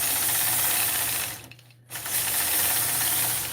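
Machine quilting along a ruler on a patchwork quilt, a fast continuous sewing-machine whir that drops out briefly midway before resuming at a steady pace.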